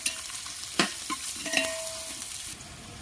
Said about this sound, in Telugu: ఆనియన్స్ మగ్గుతుంది కదండి,